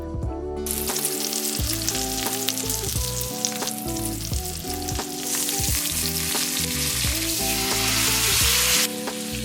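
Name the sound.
steak sizzling in hot skillet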